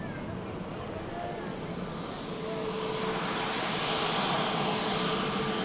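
Pegasus Airlines jet arriving at Manchester Airport, a steady engine roar with a faint whine that grows slightly louder in the second half as the aircraft nears.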